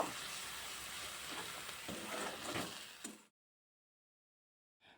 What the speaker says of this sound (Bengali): পরিমাণ মতো হলুদ দিয়ে দেব পরিমাণ মতো লবণ দিয়ে দেব এবার সব কিছু দিয়ে আরও কিছুক্ষণ কষিয়ে নেব